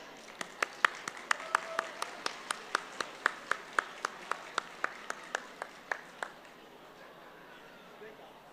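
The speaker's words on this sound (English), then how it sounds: "I would like for all of us to give a big round of applause to our Chief of Guests" At a Republic Day ceremony, an audience claps for chief guests as a sparse, evenly spaced run of about twenty sharp individual claps that stops partway through, leaving quiet room tone.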